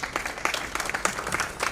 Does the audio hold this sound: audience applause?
yes